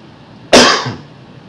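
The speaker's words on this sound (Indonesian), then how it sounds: "Maaf, batuk." A single sharp cough, close and loud, breaks an otherwise quiet moment.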